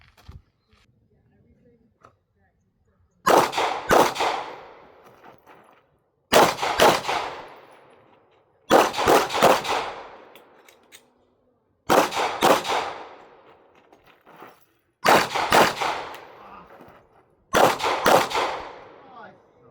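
A Ruger RXM pistol fires six sharp, loud, evenly spaced shots during a training run for a PCSL match, each followed by a short ringing decay, with quiet pauses in between.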